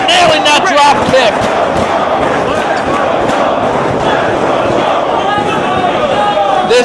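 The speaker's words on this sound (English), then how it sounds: "This crowd behind both men" A wrestling crowd roars and cheers steadily throughout a CM Punk versus Samoa Joe match, the loud arena noise running under a commentator's continuous talk.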